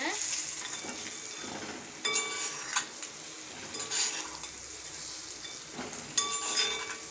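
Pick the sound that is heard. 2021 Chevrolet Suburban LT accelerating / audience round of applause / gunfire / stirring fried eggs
stirring fried eggs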